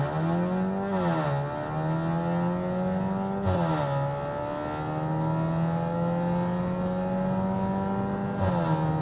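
A Seat Leon FR with a sports exhaust, in sport mode with stability control off and brake boost applied, revs loud and close, its droning engine tone climbing steadily between several quick shifts, with no talking.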